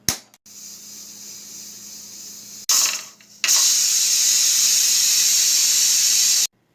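Steam hisses from a pressure cooker as ojhri (tripe) cooks on the stove: a brief burst, then a sustained hiss, a short break and a louder, steady jet of steam that stops abruptly.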